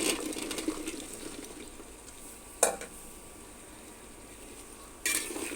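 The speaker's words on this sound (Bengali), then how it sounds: "সবজির জন্য মশলা কষাইলাম" Spices frying for a winter vegetable curry sizzle steadily in a pan while being stirred, with two sharp utensil clanks against the pot breaking the hiss.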